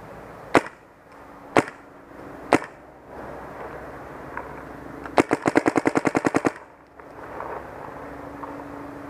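Paintball marker fitted with a Luxe barrel fires three spaced single shots, then ramps into a rapid burst of about a dozen sharp pops in quick succession; close, loud, with no talking.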